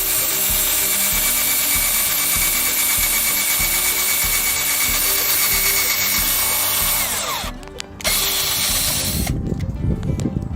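Power drill boring holes through wood pieces for a wine rack, a loud, steady mechanical whir running continuously, briefly dropping out near the end before resuming rougher and louder.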